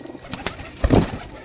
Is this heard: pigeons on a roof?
yes